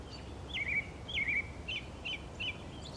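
Outdoors, a single bird repeats thin, high chirps about five times at a steady pace, moderately distant and clear above a soft hiss of background noise, with no talking.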